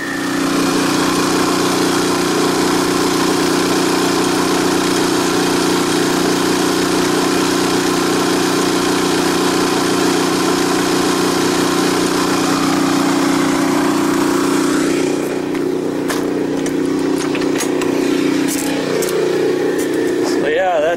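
An Energizer eZV3200P portable generator runs hard under load at high RPM, a loud steady drone throughout that shifts slightly in pitch near the end as it is throttled back, with faint clicks and knocks over the top.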